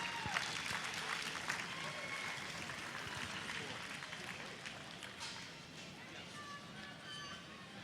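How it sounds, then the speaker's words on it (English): Audience at a junior market barrow show, a youth pig show, applauds in a steady, moderately distant wash of clapping that slowly fades over about eight seconds. "let's put our hands together and give them a nice round of applause."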